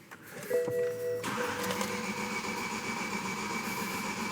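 A misfiring BMW M6 engine cranks briefly with a starter whine, then catches and settles into a steady, loud, close idle that continues to the end.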